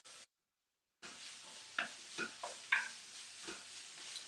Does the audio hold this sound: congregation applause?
no